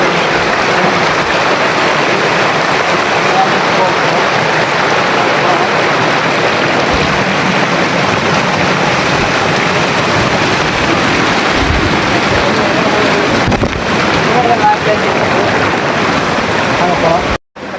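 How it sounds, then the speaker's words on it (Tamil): Rushing water at Karaigal waterfall in the Melagiri hills makes a loud, continuous roar heard close by, steady throughout before cutting off abruptly. "தண்ணி சவுண்டு தான் கேட்குது."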